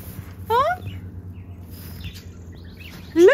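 A couple of bright, sweeping budgie chirps ring out, one near the start and one at the end, over a low background hum.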